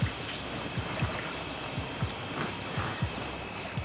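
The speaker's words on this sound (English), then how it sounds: "There's a lot of splashes going on." Water splashing at night on an island, with faint repeated splashes at irregular intervals over a steady hissing outdoor background, no voices.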